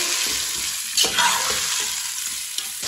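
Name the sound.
tomatoes cooking in a pan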